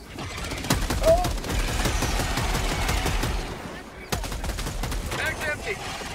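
Sustained automatic gunfire in Helldivers 2 rattles on in dense overlapping bursts, loud and continuous with a brief break near the end, and players talking faintly underneath.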